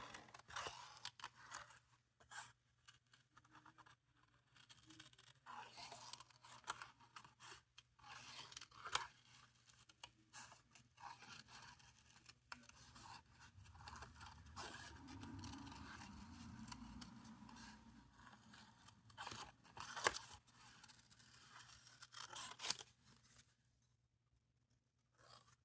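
Good scissors snipping around the rounded edges of a paper sun shape for a craft frame, a long run of small close crisp cuts and paper rustles, quiet and without any talking.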